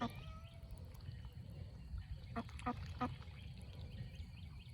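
Several quiet quacks from ducks sound in a short burst over a low outdoor rumble, fairly distant and faint.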